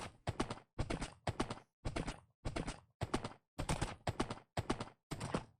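Horse hooves clopping in Minecraft, a steady series of about ten evenly spaced clip-clop beats, each a crisp double knock, close and fairly loud with brief silences between them.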